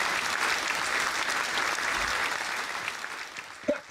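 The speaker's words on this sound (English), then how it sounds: "Let's give them a clap." Audience applause for a team after a gaming scrims match, a dense and steady patter of clapping that thins out at the end as a voice starts talking.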